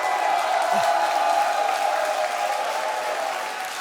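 Sustained crowd applause during a standing ovation at a StarCraft 2 esports quarterfinal, a dense wash of clapping that slowly fades slightly, with a commentator faintly talking underneath.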